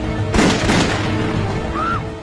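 A dramatized reconstruction of gunshots fired inside an airliner cabin: a couple of sharp, muffled bangs burst out early, then fade into a hollow, rumbling cabin hum.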